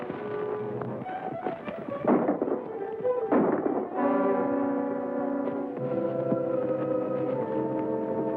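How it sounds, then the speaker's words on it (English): Gunshots crack out in a Western shootout over a hijacked cattle herd, several sharp bursts scattered over the first few seconds amid hoofbeats and commotion, followed by swelling orchestral music. "Stop that shooting."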